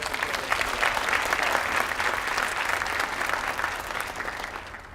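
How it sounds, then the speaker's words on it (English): Audience at a 2019 MLK celebration event giving a sustained round of applause, dense steady clapping from a large crowd throughout without a break. "So how about a round of applause for them?"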